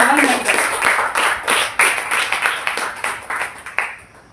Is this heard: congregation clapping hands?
yes